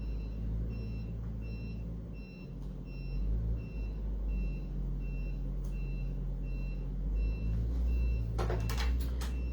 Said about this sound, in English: Can you hear the construction trucks?